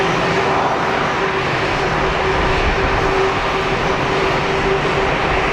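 A plain, unpainted aircraft at Geneva Airport gives a loud, continuous engine roar with a steady whining tone, holding evenly from start to finish with no voices.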